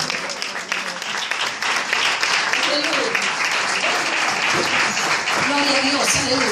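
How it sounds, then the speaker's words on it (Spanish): Church congregation clapping at an evening Spanish-language worship service, steady sustained applause with voices and shouts of praise mixed in throughout. "Denle una ofrenda de palmas al que vive."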